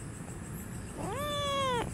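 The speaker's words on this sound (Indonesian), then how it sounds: "Itu setan Casper itu sudah berapa lama di sini, kucing?" Cat meowing once, a clear rising-then-level tonal meow lasting under a second over quiet background hiss.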